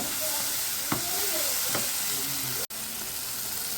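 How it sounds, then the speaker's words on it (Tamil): Spicy Tamil kara chutney fries in a pan on the stove with a constant loud sizzle, while a spoon scrapes and stirs through it in a couple of distinct strokes. "இந்த அளவுக்கு உப்பு சேர்த்து நல்லா கிளறி விடுங்க"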